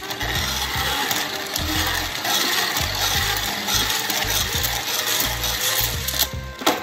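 A hand-cranked, fully 3D-printed gear mechanism with a 13.5:1 ratio spins fast, giving a loud, continuous plastic whirring with a rhythmic pulsing chatter and a steady high whine, ending in a few sharper clicks.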